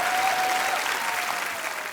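A studio audience on The Kapil Sharma Show claps in dense, continuous applause, loud and steady for the whole stretch with no speech over it.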